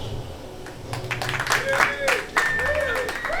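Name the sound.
applause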